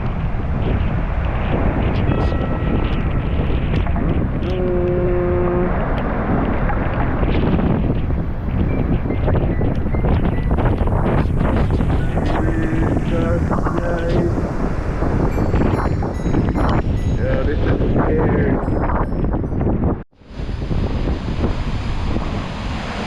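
Strong hurricane wind roars and buffets the microphone continuously, loud and close, with rustling debris in the gusts and a brief dropout near the end.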